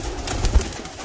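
A pigeon coos low and soft in a forest setting, one brief throaty call rising out of steady background hiss, close but quiet.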